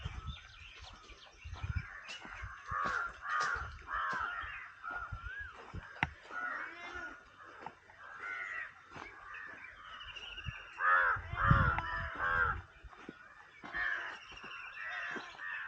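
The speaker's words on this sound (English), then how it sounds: "Plenty of birds." Crows caw repeatedly among freshly planted trees, several birds calling back and forth at moderate distance, with harsh caws coming in irregular clusters and other small birds chirping faintly.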